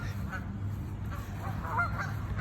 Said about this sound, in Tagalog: Here's the ducks,